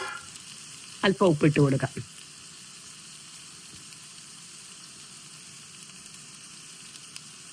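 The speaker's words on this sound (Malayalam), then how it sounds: "എല്ലാം കൂടെ ഒന്ന് വഴറ്റിയെടുക്കാം" Ingredients sauté in a pan for chicken roast, a soft, steady sizzle running throughout, while a person speaks briefly near the start.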